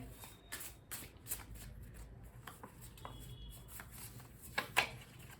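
Handmade cards for a pick-a-card reading are shuffled close up, giving a series of soft, papery riffles and slaps with brief pauses between them.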